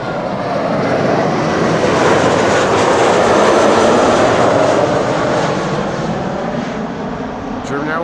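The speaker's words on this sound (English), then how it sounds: "KLM flight 1944, arriving from Basel, Embraer 190." A KLM Embraer 190 airliner arriving from Basel at Amsterdam Schiphol roars loudly and steadily overhead, its jet engine noise swelling broad and close before easing slightly.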